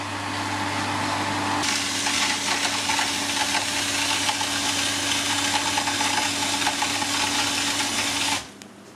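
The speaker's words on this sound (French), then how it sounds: "Donc là, il revide encore de l'eau. Là, ça pompe de l'eau." A Parkside PHGA 1000 A1 automatic garden pump kicks on and runs with a loud, steady motor hum and water whirr for about seven seconds, then cuts off abruptly.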